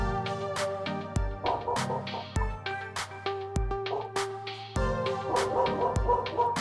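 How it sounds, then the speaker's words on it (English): A dog barks indoors, a string of sharp, close barks and yips that repeat roughly every second over several seconds. "Excuse the barking if you can hear it."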